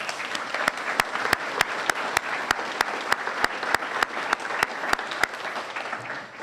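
Steady applause from a graduation audience honoring school board members, dense crowd clapping with a few sharp, loud claps repeating at a regular beat throughout.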